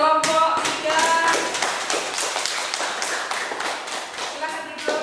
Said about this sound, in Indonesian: tepuk tangan dong buat kelompok 3